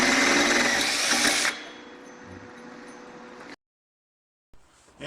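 A step drill bit bores oversize holes in a fuel system bracket for an LT swap on a 1965 Pontiac Safari wagon, a loud whirring drill burst that cuts off, lower steady whine continuing before silence and a faint restart.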